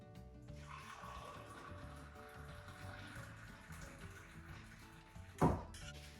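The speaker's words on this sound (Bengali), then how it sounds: "তো আমি এই কাপটির মধ্যে আমার টিগুলো ঢেলে দিচ্ছি।" Karak chai, a milky spiced tea, pours into a clean, crystal-clear glass cup in a home kitchen. A steady liquid trickle runs throughout and ends in a brief louder splash near the finish, with no talking.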